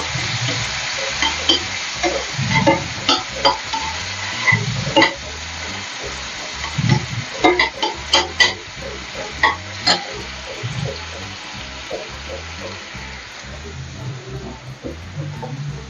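Onion, curry leaves and a piece of tomato fry in hot oil to a continuous sizzle, while a spoon scrapes and clinks against the pan in irregular strokes and occasional sharp knocks, fairly close.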